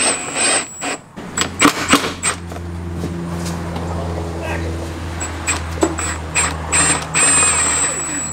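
A ratchet clicks repeatedly in short runs while intake bolts come off a Jeep Wrangler TJ, close and fairly loud, with stretches of low mechanical rattling and a steady background hum between the bursts.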